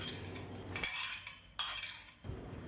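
A spoon stirs a tempering of mustard seeds, cumin, dried chillies, asafoetida and curry leaves into curd in a bowl, making a few separate clinks and scrapes against the dish with short quiet gaps between them.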